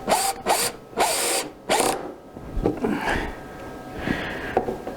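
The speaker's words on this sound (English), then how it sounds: "I'll put a screw in now to hold it there securely." A screw being driven in with a power driver to hold aluminium plate against the tool on a CNC router, heard as several short, loud buzzing bursts in quick succession, followed by quieter handling noise.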